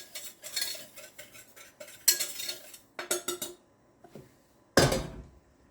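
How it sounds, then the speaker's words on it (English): A spoon or whisk stirs pudding mixture with salt in a bowl, producing rapid rhythmic clinking and scraping bursts that stop and start, with a sharper clatter near the end, close and alone without talk. "I'm just going to give that another quick mix"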